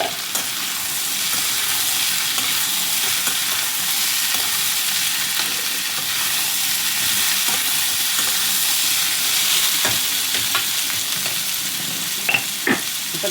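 Ivy gourd frying and being stirred in a hot pan while cooking a simple lunch, giving a steady loud sizzle with scraping stir strokes and a few sharper clinks near the end, no talking.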